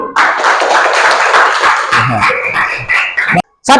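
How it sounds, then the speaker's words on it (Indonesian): Children in a classroom clap their hands together in a short, lively burst, close and loud, with some voices mixed in before it stops abruptly. "Tepuk tangan dulu."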